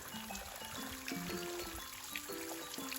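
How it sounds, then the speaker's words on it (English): Floodwater pours over a large waterfall on a swollen river, a steady broad rushing wash that carries on alone, close and full, with no voices. "look at that massive waterfall"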